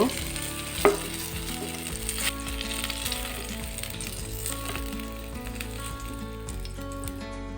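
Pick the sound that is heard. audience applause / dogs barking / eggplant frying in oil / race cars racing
eggplant frying in oil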